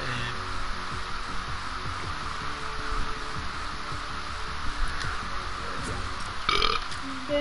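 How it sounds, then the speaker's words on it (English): A long, drawn-out croaking burp rumbles on continuously for several seconds, loud and close, with a noisy background. "your burp sounds nasty"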